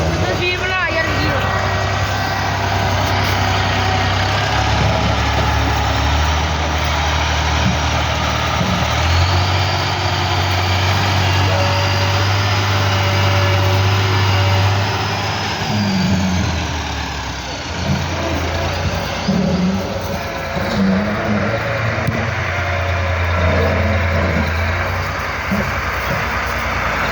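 A 260 tractor engine idles with a steady low diesel chug throughout, close and continuous, while people talk over it on a farm.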